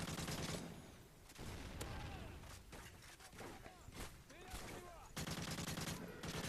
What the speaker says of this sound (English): I'm also using the AK because, again, as I said, I like the rapid fire